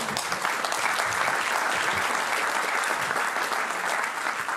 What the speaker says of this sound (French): c'est le moment d'applaudir Marie-Laure.